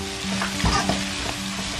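Shredded cabbage is stir-fried quickly in a wok with scallion-scented oil, a brief loud sizzle with a burst of tossing and scraping near the middle.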